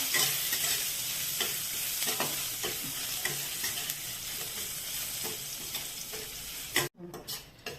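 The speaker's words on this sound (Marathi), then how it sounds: "तेल तापले आपण आता त्यात कुटलेला लसूण घालूया हा लसूण थोडा लाल होत आला हा लसूण चांगला परतून घ्यायचा" Crushed garlic fries in hot oil with a loud, continuous bright sizzle and regular spoon strokes stirring through it, then a brief break and a few uneven clatters near the end.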